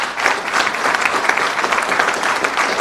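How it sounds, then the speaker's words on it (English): Audience applause fills a gathering where a governor launches a STEM education program, a dense, even wash of many hands clapping throughout without pause. "Let's give him a round of applause"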